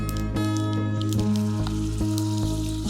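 Ground paste for raw mango thokku goes into hot, foaming organic sesame oil with asafoetida. It sizzles and crackles in a steady close hiss over a low background hum.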